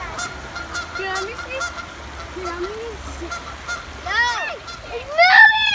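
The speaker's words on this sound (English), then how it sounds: "Got some geese." Geese honk near water on a spring nature outing, sounding at first as scattered calls that grow louder and more frequent toward the end.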